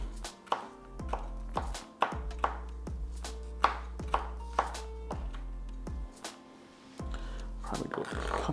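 Onions diced with a knife on a cutting board: a quick series of close, crisp chops in irregular bursts, with a low steady hum underneath and no speech.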